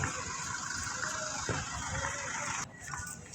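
Steady rushing river water flows continuously beside a gazebo in a wildlife park, a broad gushing wash that stays fairly even throughout, with no voices.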